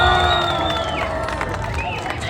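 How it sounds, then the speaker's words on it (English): A crowd at Harbourfront Centre in Toronto cheers and whoops loudly with some shouting and scattered clapping, a steady wall of sound with bright whistled or shrieked tones on top. "Why is everyone cheering?"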